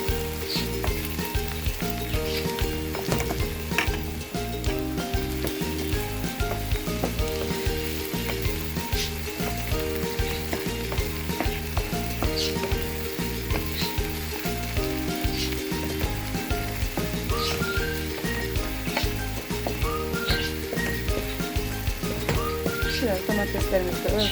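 Steady, loud sizzling of onions and tomatoes frying in a pan, continuous crackle and hiss close by throughout, with a voice speaking over it.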